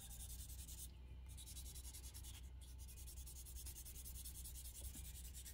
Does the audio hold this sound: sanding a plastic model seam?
yes